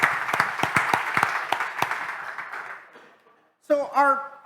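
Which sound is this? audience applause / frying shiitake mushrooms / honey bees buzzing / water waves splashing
audience applause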